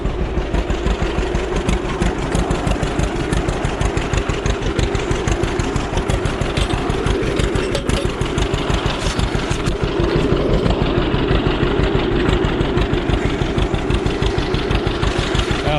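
Cold John Deere tractor engine idling steadily with a fast, even chugging pulse, loud and close throughout, with no one speaking.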